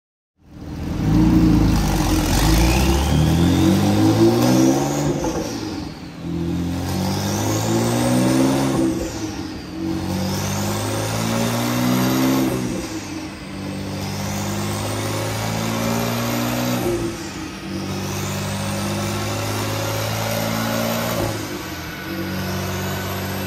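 Tuned Porsche 911 Carrera T (991.2) with an APR Stage 3 ECU upgrade and GTS turbocharger system revving hard on a dyno, loud and close, climbing through repeated full-throttle pulls with short drops between them.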